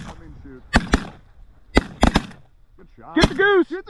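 Shotguns fire at ducks and geese on a snowy Alberta hunt, with about six sharp, close reports in quick clusters. Duck-like quacks follow at the end, and voices are heard faintly in the background.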